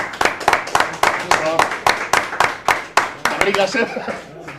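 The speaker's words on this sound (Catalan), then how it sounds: "aplaudiment amb en Garriga" Studio audience on a late-night Catalan broadcast claps for a guest, a quick run of sharp claps with a steady rhythm under continuing talk and a little laughter.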